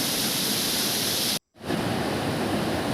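Heavy, steady roar of flooded, muddy water rushing over Thirupulinadu waterfall in the Kolli Hills after rain, filling the whole clip, broken by a brief silent gap midway before the torrent resumes.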